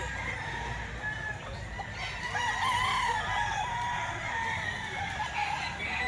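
A gamefowl rooster crows at a farm, a clear drawn-out cock-a-doodle-doo with some clucking around it, moderately near against a low background rumble.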